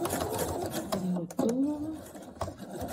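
A sewing machine stitches short back-and-forth runs on a fabric face mask, its rapid mechanical whir starting and stopping in close bursts while someone talks over it.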